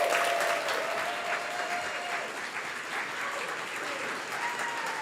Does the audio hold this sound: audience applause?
yes